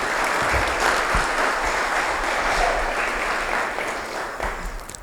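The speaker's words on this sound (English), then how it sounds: "So I'd really like to give those folks a round of applause" Conference attendees at a lakes summit break into a sustained round of applause, a dense, even wash of clapping that softens slightly near the end.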